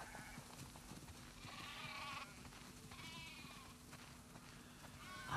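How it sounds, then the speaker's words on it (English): Sheep in The Last of Us Part II bleat several times in a flock, wavering calls rising over a steady background hum and soft shuffling. "That's a lot of sheep."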